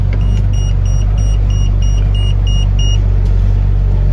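A stock NV5 six-wheel truck's engine drones in a loud, steady, low rumble as it climbs a slope, with a series of high beeps partway through.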